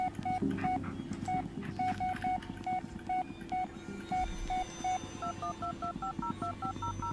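Telephone dialing in the video game Blair Witch: a long run of clear, evenly spaced keypad tones, one after another, over a steady low background hum.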